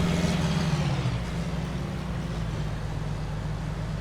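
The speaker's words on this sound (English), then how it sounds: "I can hear the tractor behind us, actually" Tractor engine in Farming Simulator 19, a low steady diesel drone rumbling from behind, constant and moderately loud for the whole stretch with a slight dip in pitch early on.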